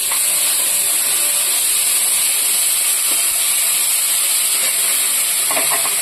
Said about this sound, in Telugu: ఇందులోకి మనము తగినంత అల్లం వెల్లుల్లి పేస్ట్ వేసుకొని బాగా వేయించుకుందాము